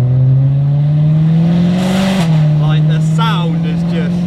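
A car's exhaust with its valves open gives a loud, steady droning hum that dips slightly in pitch partway through, with a voice briefly heard over it.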